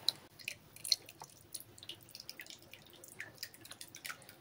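Tamarind juice trickles and drips into a pan of small fish for an Andhra-style curry, a faint, irregular patter of liquid splashes in a quiet kitchen.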